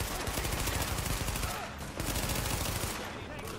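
Sustained, loud automatic gunfire rattles almost without a break, rapid shots blending into a dense roar with a brief dip midway, from a firefight in the Xbox One video game The Division set in New York.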